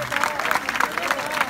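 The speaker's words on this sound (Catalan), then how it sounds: "demanant un altre aplaudiment per als 7 participants" Steady applause from an audience at a rice-harvest festival, a continuous patter of clapping hands at moderate volume.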